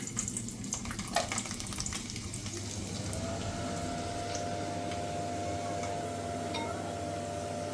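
Ingredients frying in hot oil in a home kitchen pan give a steady, close sizzle and crackle that runs evenly throughout, with a faint constant hum underneath.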